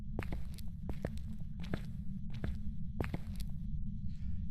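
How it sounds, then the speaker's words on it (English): Ghost footsteps in a ghost-hunting video game, a steady series of soft, evenly paced steps over a constant low hum, mid-distance, with no talking. "We lost those footsteps quick."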